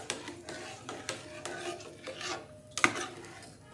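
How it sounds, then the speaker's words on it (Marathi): A spoon stirs moong dal in a cooking pot, giving soft scraping and rubbing strokes with light clinks against the metal, repeating roughly every half second, close and fairly quiet. "परत एकदा असं छान असं हलवून"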